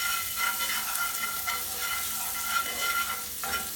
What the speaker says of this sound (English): Okay, so I'm going to give that a stir.